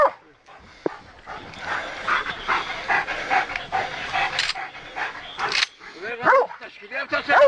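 Dogs bark, pant and whimper close by in uneven bursts, short yips and heavy breathing mixed with people talking and calling out.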